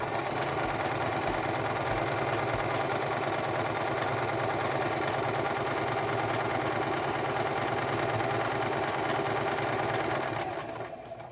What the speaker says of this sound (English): Now let's sew out our zigzag stitch.